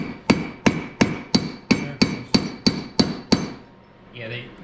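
A hammer strikes a part on an MK2 Jetta Turbo Diesel barn find about ten times in a steady rhythm, sharp metallic knocks close by, followed by a brief faint rustle.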